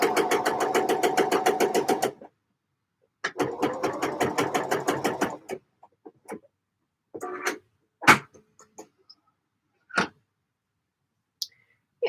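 A sewing machine stitches a knit pocket opening in two rapid, steady runs of close mechanical chatter separated by a pause, followed by scattered clicks and brief handling knocks, with no talking.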